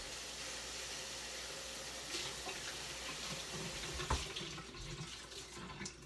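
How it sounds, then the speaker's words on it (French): A kitchen towel is rinsed under a running tap, a steady close hiss of flowing water into a sink with a brief splash as the cloth is moved. "Puis après ça, je rince comme il faut sous l'eau."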